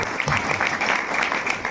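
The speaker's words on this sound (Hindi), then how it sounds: "जोरदार तालियों से।" Loud, dense applause from a crowd at a religious gathering welcoming guests, continuous clapping filling the short moment with no voices over it.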